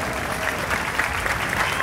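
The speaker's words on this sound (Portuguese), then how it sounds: "salva de palmas para Nossa Senhora" Steady, dense applause from a congregation at a feast day Mass for Nossa Senhora Aparecida, a continuous clapping wash throughout the brief moment.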